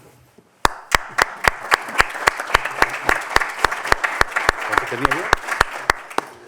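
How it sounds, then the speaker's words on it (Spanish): Sharp, evenly spaced claps ring out in a conference setting after a talk on consulting and public administration, one clear rhythmic clapper joined by faint crowd noise while a voice speaks briefly. "Te has ganado un aplauso"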